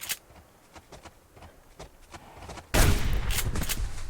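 Gunfire while hunting in the video game Subsistence: a loud, abrupt shot bursts in near the end and rings on, following quieter game ambience with light ticks and movement.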